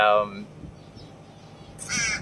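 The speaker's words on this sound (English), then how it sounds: "I got crows, coming up to me and getting into my environment like this crow." A crow gives two harsh caws, one at the start and another near the end, separated by a quiet gap.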